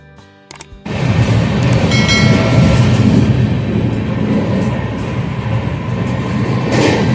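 A Vistadome train rolls into Siliguri Junction station with a loud, steady rush and rumble of wheels on rail that starts abruptly after a brief quiet moment and carries on close by to the end.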